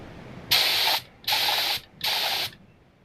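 ANI mini LVLP spray gun with a 1.0 tip spraying tinted clear coat from about 7 inches, giving three short hissing bursts of roughly half a second each, separated by brief pauses.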